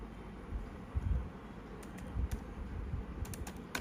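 An OTP is being typed on a computer keyboard, making a run of soft, irregular key clicks close by, with no voices.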